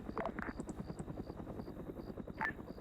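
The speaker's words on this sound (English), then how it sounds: "those helicopters are passing underneath me time now" Helicopters pass overhead in the Arma 3 military video game, a loud, rhythmic rotor thump that pulses steadily, with small radio beeps and clicks over it.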